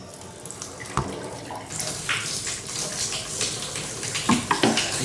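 Water runs from newly installed pillar bath taps, a steady rushing flow with a few brief knocks and splashes as the valves are turned back on, close and fairly loud.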